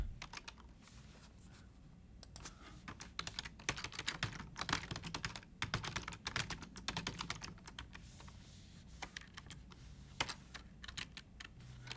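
Someone typing on a computer keyboard, a fast irregular stream of close, crisp key clicks and clacks with brief pauses, quiet overall and without speech.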